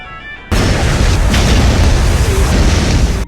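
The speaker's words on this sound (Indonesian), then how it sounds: "Seketika bus meledak dan membuat keduanya kembali hidup di pengulangan ke-10." A bus blows up in a film scene: after a quiet instant, a sudden loud blast erupts into a sustained roaring, crackling burst that fills the remaining seconds.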